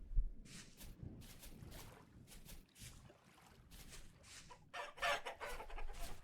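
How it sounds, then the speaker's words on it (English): Chickens cluck in the video game Vintage Story, with short, fairly close calls repeating at irregular intervals and a louder cluster of clucks toward the end. "Alright, we got chickens."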